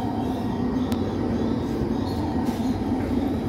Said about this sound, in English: It's the tram.